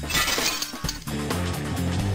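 Glass loudly shatters and smashes in an animated street-racing scene set in Rosario, the crash followed by tinkling shards over a steady rumbling engine-like drone.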